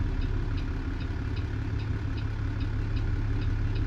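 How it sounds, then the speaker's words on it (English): Cat 3406E diesel truck engine idling in American Truck Simulator on a Pizzster 389 hauling a log trailer, a steady low rumble with a faint regular ticking clatter above it, alone and unchanging throughout. "without Zap, I think it sounds like the engine does not sound good"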